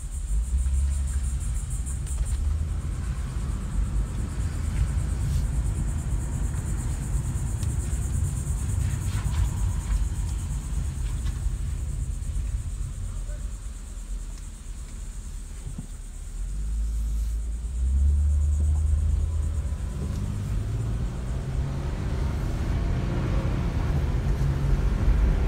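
A 1999 Acura TL with a wiring issue and a transmission problem drives along, giving a steady low engine and road rumble throughout with no talk, swelling slightly louder in the final stretch.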